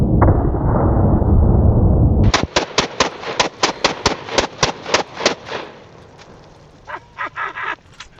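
An explosive round strikes its target, heard as a rapid series of about twelve sharp, loud cracks, each ringing out briefly, after a dense rumbling burst, followed by fainter scattered pops.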